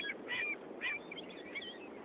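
Seagulls being fed squawk and fight, with harsh, honking cries coming in short repeated bursts over a soft background, fairly faint and without any talk.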